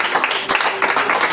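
A church congregation at a Sunday service claps and cheers in a short, dense burst of applause, with voices mixed into the clapping.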